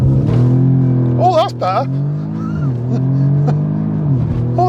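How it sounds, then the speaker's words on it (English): A loud, steady engine drone from an Audi S3 Sportback holds at high revs with the brake held and throttle floored for a launch control start, close to the microphone, with brief climbing pitch sweeps, while someone speaks over it. "Then I just keep my left foot on the brake, floor the throttle."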